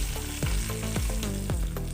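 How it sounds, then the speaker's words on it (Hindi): Mushrooms sizzle loudly in a pan as a hot chilli garlic tempering is poured over them, a dense crackling fry with stirring clatter and no talking. "मशरूम को हम तड़का दे देते हैं।"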